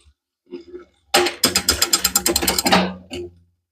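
Bicycle gears shift back and forth between high and low, a quick run of close mechanical clicks and ratcheting in a burst of about a second and a half, with softer rustles before and after.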